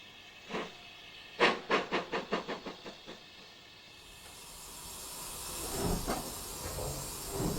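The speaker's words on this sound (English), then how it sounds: "a standard Class 5 is restarting its 9-coach train on a 1 in 100 gradient" A BR Standard Class 5 steam locomotive restarts its nine-coach train on a curved 1 in 100 gradient: a run of sharp exhaust chuffs fades, then a steady, growing hiss of steam follows.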